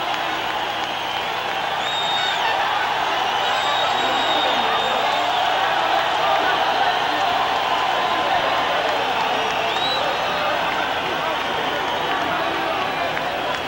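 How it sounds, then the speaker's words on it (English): A boxing arena crowd roars steadily as Julio Cesar Chavez climbs into the ring for his WBC 140 lb fight with Kostya Tszyu, a dense, loud, continuous wash of cheering with voices mixed in. "and the crowd erupts."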